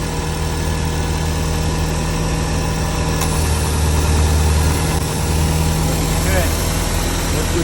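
A 2008-2014 Subaru WRX idles with a steady low rumble and a faint vibrating hum. The note holds constant throughout, close and moderately loud, with a slight swell partway through.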